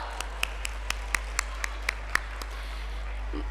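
A sparse round of single hand claps at a school welcome event after a student performance, about ten sharp, fairly faint claps spaced out at a steady pace over a low background hum.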